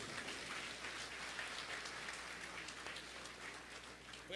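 Congregation applauding to welcome a preacher at a large annual church convention, a steady broadband patter of clapping that fills the whole stretch without pause, with some voices mixed in.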